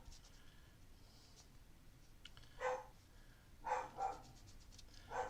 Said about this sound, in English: There's the dog having its nighttime bark.